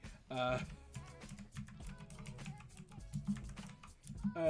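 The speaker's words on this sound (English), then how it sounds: "It's my typewriter keyboard aesthetic clackety sounds." Rapid clacky keystrokes on a mechanical keyboard, close and steady, with a voice talking over the typing.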